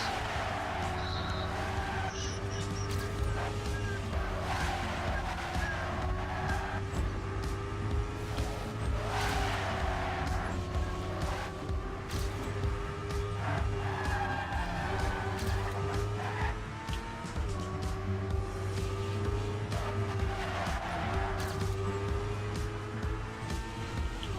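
Several cars hum steadily through warm-up laps in a racing video game, a continuous engine drone with faint whooshing passes, no talking.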